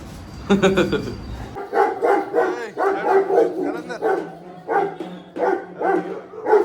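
A house dog barks repeatedly at a stranger, a string of loud, close, sharp barks in an uneven rhythm, with a voice heard at the start.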